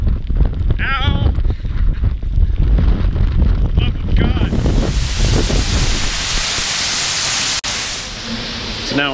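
Heavy rain and strong wind buffet the microphone outdoors in rugged Irish countryside, producing a loud, continuous roar and rumble, while someone speaks and exclaims over it near the start.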